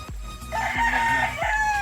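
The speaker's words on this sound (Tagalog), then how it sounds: "Ang dami mo palang manok, oh." A rooster crows loudly in a long drawn-out call, with sharp clucking hens close by throughout.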